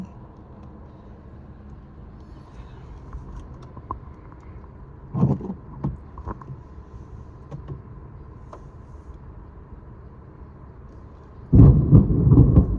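A steady low background suddenly breaks into a loud, deep thunder rumble near the end, after a few faint knocks and bumps earlier on.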